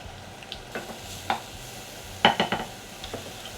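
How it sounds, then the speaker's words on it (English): Tomato puree, garlic and water being stirred into pizza sauce, a spoon scraping and tapping against the bowl in several short clinks and soft wet swishes, close and alone. "Mix all this together to make our pizza nanizza, nanizza sauce."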